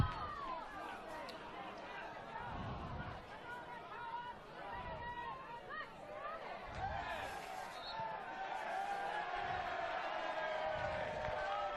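A football crowd at an FFA Cup match between Hakoah Sydney City East and Palm Beach murmurs and stirs in reaction to a referee's call, heard as a restless hubbub beneath a commentator talking.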